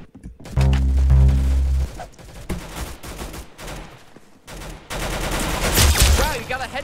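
Gunfire in the Roblox shooter game Arsenal: loud bursts of shots with an explosive low boom near the start, then repeated rapid firing throughout, with game effects and a voice faintly under the action.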